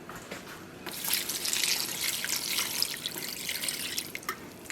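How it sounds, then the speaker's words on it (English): Water pours into a yarn dye pot holding twisted mini skeins, a steady splashing rush that starts after a brief quiet moment and continues fairly close until the end. "Let's add some more water."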